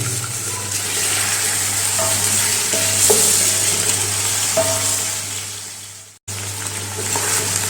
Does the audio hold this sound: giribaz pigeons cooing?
no